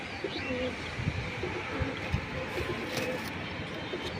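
Cheeta Military breed pigeons coo softly in a few low, repeated calls over a steady background hiss, faint and somewhat distant.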